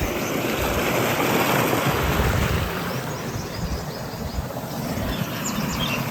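Water gushes steadily from a solar-powered tubewell pipe into a farm field, a dense, continuous rushing and splashing wash that stays loud and close throughout with no voices.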